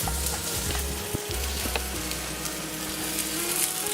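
Watermelon frying in hot oil, a dense, continuous crackling sizzle with scattered pops, close and loud throughout.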